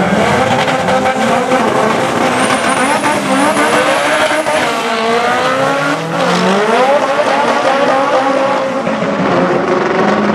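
A BC Performance Honda race car at Irwindale track, its loud engine revving and shifting close by, with a long rising and falling whine and brief tire squeal, filling the whole stretch.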